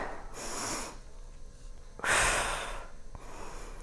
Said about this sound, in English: I'm going to take a deep breath on the way down.